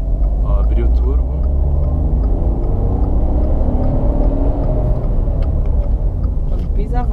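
A turbocharged car's engine pulls hard under acceleration on a test drive, a loud steady rumble rising in pitch, with occupants talking over it.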